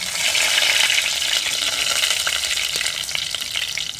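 Curry leaves hit hot coconut oil with mustard seeds and dried red chillies, giving a loud, steady crackling sizzle that fills the whole stretch, with a few sharper pops near the end and no voices.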